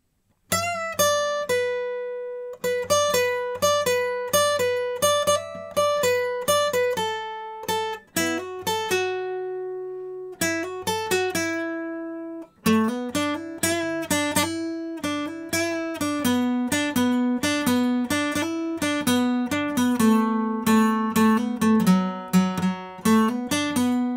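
Lead guitar solo on a Bedell TB 17 G acoustic guitar: clean plucked single notes and short runs with bends, phrased in bursts with brief pauses, played solo and close.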